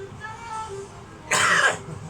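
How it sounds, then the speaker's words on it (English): A single harsh cough bursts out close by after a moment of quiet, faint voiced sound. "Sorry about this coughing."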